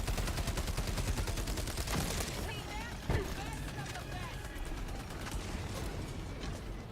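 Automated turrets fire in rapid bursts during a Helldivers 2 game, a dense continuous rattle of gunfire and mechanical clatter under a player talking.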